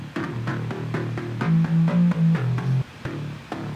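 A deep, layered electronic bass line pulses in a bouncing rhythm, with sustained low notes over a steady beat.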